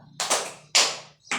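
A classroom of pupils claps in unison, a few crisp, fairly close hand claps in quick succession with no talk.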